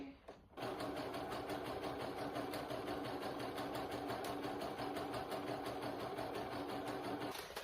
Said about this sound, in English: I'm gonna drop the zigzag stitch a lot in this whole thing just for posterity